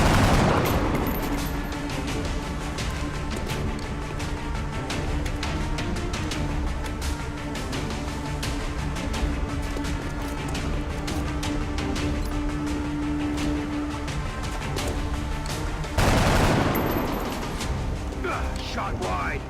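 Dense bursts of gunfire from the turn-based strategy game XCOM: Enemy, with rapid overlapping shots and booms running steadily, a loud blast near the end, and a voice talking over the action.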